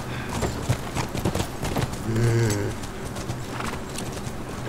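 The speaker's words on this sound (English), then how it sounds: "Back to the horses." Horse hooves clip-clop steadily in The Last of Us Remastered on PS4, with a brief whinny in the middle over game ambience, and a voice murmurs briefly.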